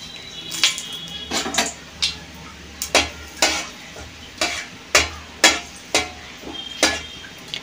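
Whole cumin seeds and a dried red chilli tempering in hot oil for a Bengali yogurt fish curry, with a low sizzle beneath a string of sharp, rhythmic metal spatula scrapes and clinks against the pan.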